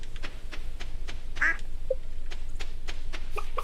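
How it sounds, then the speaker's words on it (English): Ducks on a Stardew Valley farm give a few scattered quacks over steady background game music, short isolated calls spaced irregularly. "Donald and Walter are the ducks"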